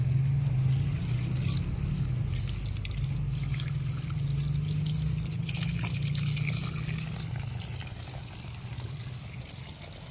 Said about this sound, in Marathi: पाणी लावलेलं आहे आपण झाडांना